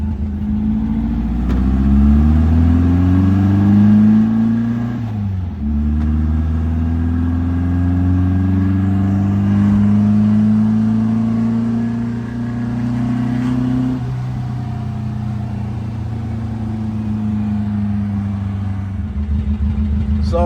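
A VW Beetle with an external oil cooler, out on a freeway test drive, drones steadily from the cabin, its engine note rising and falling through gear changes with constant road rumble and no talk.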